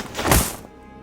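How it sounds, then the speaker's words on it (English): A dull thump as a small altar is knocked to the ground, a single soft, heavy impact near the middle with a short decaying tail. "also is equipped with a small altar to Zvim, which the priest of Corella knocks to the ground with a thud"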